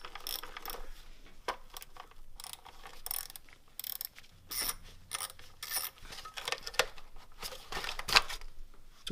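A ratchet clicks in quick bursts while loosening the belt tensioner on a Mazda Miata engine during a timing belt job, close up, with metallic rattles and scrapes between strokes.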